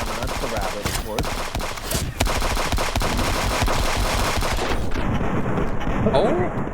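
Dense, continuous video-game gunfire from Friends vs Friends, rapid automatic bursts layered with heavier blasts, loud and close throughout, with a brief quieter gap near the end.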